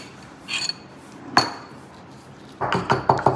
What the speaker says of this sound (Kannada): ಏಲಕ್ಕಿನ ಪುಡಿ ಮಾಡೋಕ್ಕೆ ನನ್ನ ಕೈಯಲ್ಲಿ ಆಗ್ತಿರಲಿಲ್ಲ. ಅದಕ್ಕೆ ಎಕ್ಸ್ಪರ್ಟ್ನ ಕರೆಸ್ಬಿಟ್ಟು ಪುಡಿ ಮಾಡಿಸ್ತಾ ಇದ್ದೀನಿ